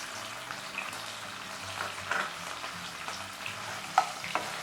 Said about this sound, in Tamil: எல்லாம் சேர்த்து நல்லா வதக்கி விடுங்க.